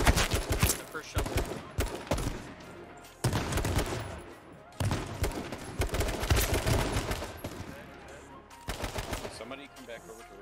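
Gunfire in the video game H1Z1 Just Survive, repeated loud bursts and rapid volleys of shots over about ten seconds with brief gaps between them.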